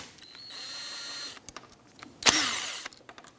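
A power tool backing out two T30 bolts from a Toyota Camry wiper motor on a workbench, a short whirring run followed by a sharp clack and a brief rising whine, close, with small metallic handling clicks around it.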